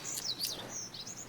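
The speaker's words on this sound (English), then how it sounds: "I like that sound effects of the birds" Game birds in LOTR: Rise To War chirp and tweet in a quick run of bright, high calls. The calls are moderately loud and close, overlapping briefly for about a second and a half with no talking.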